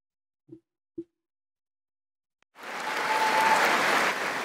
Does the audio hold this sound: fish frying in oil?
no